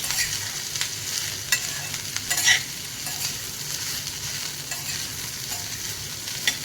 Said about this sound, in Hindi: भिंडी, प्याज, लहसुन, सब इकट्ठा। इसको थोड़ा सा चलाऊंगी।